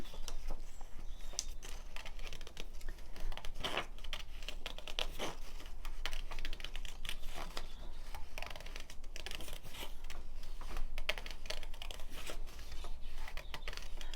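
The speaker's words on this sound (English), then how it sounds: "you probably can only hear the rattle of the paper" Paper rattling and rustling while a junk journal's pages are worked on, a steady close crackle with sharp taps and scrapes throughout, fairly quiet and with no voices.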